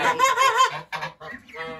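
Geese honk close by in a few loud, nasal bursts separated by short pauses.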